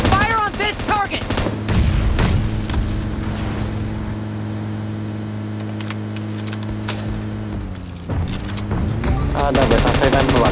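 Rapid automatic gunfire in the mobile battle royale game PUBG Mobile, played in a rage gear mode: a loud, dense burst of shots over a steady vehicle engine hum, with sharp single shots near the end.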